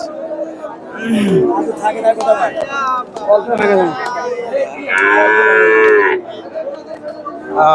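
Cattle low repeatedly at a livestock market, Friesian cross heifers among them, one long drawn-out moo standing out near the end, amid a busy murmur of people chattering in the background.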